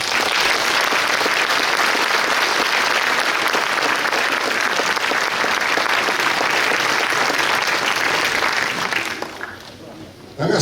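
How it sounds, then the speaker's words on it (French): An audience at a mayor's New Year wishes and medal ceremony applauds loudly and steadily for about nine seconds, then the clapping thins out and fades before a brief noise at the end. "Vraiment, ils méritent vos applaudissements."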